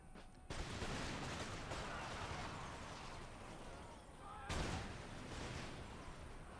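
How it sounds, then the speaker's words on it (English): A grenadier regiment fires musket volleys in Empire Total War, heavy crackling bursts of massed gunfire, one beginning early and another loud burst midway, with rumbling battle noise between and someone talking over it. "It's just a regiment of fucking grenadiers shooting at you."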